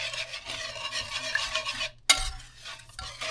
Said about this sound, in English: And I'm going to whisk it together.